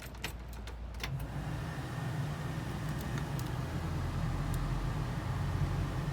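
A restored 1955 Chevrolet Bel Air with a 502 big-block V8 runs steadily, a deep low rumble holding constant throughout with a few faint clicks near the start and air-conditioning blowing in the background.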